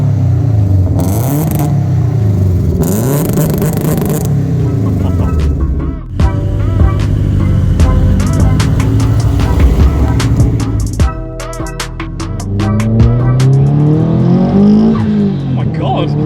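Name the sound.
Subaru Impreza WRX STI, 450bhp, accelerating and revving on road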